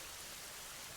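Steady rain pours over a cartoon neighbourhood of mud houses and a concrete balcony, a dense, even hiss of falling water that holds constant throughout with no voices.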